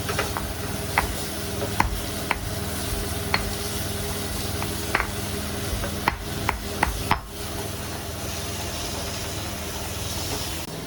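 Garlic sizzles in a hot pan in a Nepali restaurant kitchen, a steady loud frying hiss with repeated sharp clicks and scrapes of a utensil stirring against the metal.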